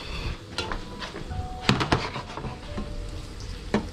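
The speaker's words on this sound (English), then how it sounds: "Got our veggies nice and coated, sauteed" Vegetables sauté in a pan with a low background sizzle, broken by clinks and scrapes of stirring and a few sharp knocks of utensils against the cookware.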